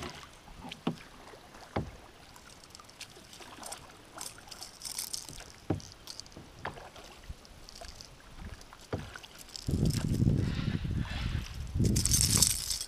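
Paddle strokes dip and pull through river water from a canoe or kayak on a cod-fishing outing, a steady series of splashy swishes and drips close by, with a rougher rush of water and wind near the end.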